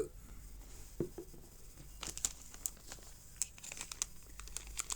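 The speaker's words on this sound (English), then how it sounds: "Put it into a Ziploc bag and just scrunch it around the back." Close, quiet crinkling of a plastic Ziploc bag as a Vaseline-coated cotton ball is scrunched around inside it, with irregular sharp rustles and crackles in short bursts.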